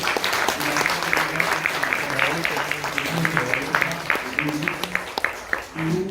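Loud, sustained audience applause after a children's dance performance at a staged drama and folk festival, dense clapping with sharp individual claps standing out and a voice talking over it.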